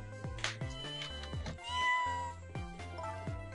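Kitten Sissel from the Ghost Trick video game meows several times in short, bright calls over a melodic game music backing.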